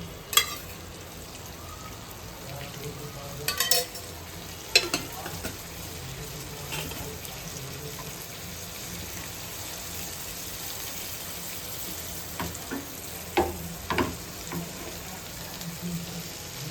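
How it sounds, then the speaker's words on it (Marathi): Bangda (mackerel) fish shallow-frying in oil in a pan over a medium flame, a faint continuous sizzle with a few sharp clinks and scrapes of utensils against the pan, no speech. "आता मी गॅसची फ्लेम थोडी वाढवते, मध्यम ठेवते आणि छान असे खरपूस असे हे फ्राय करून घेते"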